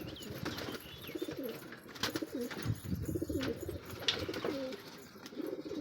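Red racing pigeons cooing close by, soft repeated throaty coos overlapping one another, with faint bird chirps and background murmur.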